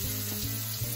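Ginger sizzling in a hot pan for a black bean stir fry, a brief steady crackling fry heard close with no talk.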